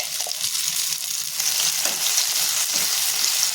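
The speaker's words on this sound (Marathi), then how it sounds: "इथे एका तव्यामध्ये आपण तेल टाकून घेऊया आणि ह्याच्यामध्ये आपण मका जे बारीक करून घेतलेले ते त्याची पेस्ट काढून घेऊयात" Ground corn paste fries in oil on a griddle, giving a steady, close, hissing sizzle that holds evenly throughout with no talking.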